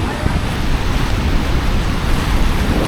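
Steady roaring rush of Ban Gioc Waterfall on the Vietnam–China border, in high flow, loud and continuous, a dense broadband wash with no pauses.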